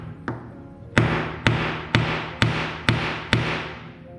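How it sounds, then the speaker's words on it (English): A flat-sided hammer knocks a lead sinker onto a tai tenya fishing lure, one light tap followed by six sharp, evenly spaced metallic blows, close and loud with no talking. "Take my hammer with a flat side like that. Okay, I'm just going to knock it slowly."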